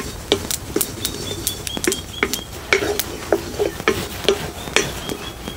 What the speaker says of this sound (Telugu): ఇప్పుడు తెల్ల నువ్వులు కూడా మాడిపోకుండా దోరగా వేయించుకుందాం.